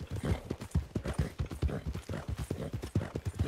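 Horse hooves clip-clop in a quick, steady rhythm in the Western roleplay video game RedM, close and clear with a soft background hum and no talk.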